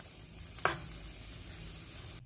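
Spam frying without oil in a pan over medium-high heat for Korean kimbap, a faint steady sizzle close by with one brief louder scrape of stirring early on.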